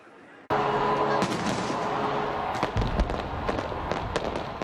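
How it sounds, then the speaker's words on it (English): New Year's fireworks launch from Auckland's Sky Tower, bursting abruptly into a loud, dense roar of crackling explosions and booms with a deep thump midway, as a crowd's voices sound beneath. "Fireworks launched from Auckland's Sky Tower."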